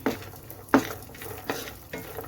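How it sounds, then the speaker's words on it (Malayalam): Cashews and raisins frying in a pan while being stirred, a continuous crackly sizzle punctuated by three or four sharp scraping knocks of the spoon against the pan, close up and without speech. "മുന്തിരിങ്ങയും കൂടി ഒന്ന് നമുക്ക് വറുത്തെടുക്കാം."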